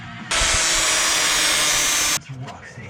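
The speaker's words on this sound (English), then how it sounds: "I'll just grind them down a bit so they fit a little flatter" A power grinder grinds down bolt heads in one loud, steady burst of close, harsh whining that lasts nearly two seconds, then cuts off abruptly into quiet shop noise.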